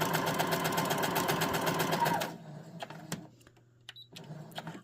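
A sewing machine stitches fabric for a cord keeper in a fast, steady close whir that stops abruptly partway through, followed by quiet handling clicks and rustles.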